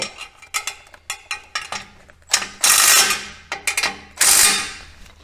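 A ratchet wrench tightens a bolt on an aftermarket exhaust system being fitted to a Chevy/GMC 6.0L truck. Close, crisp clicking comes in quick short bursts, with a few longer, louder rasping pulls.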